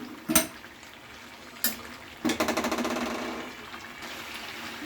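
Chicken feet curry stirred and fried down in oil in a pan: a few separate metallic knocks, then a fast rattling run of spatula taps and scrapes against the pan, close and fairly loud, with no talking.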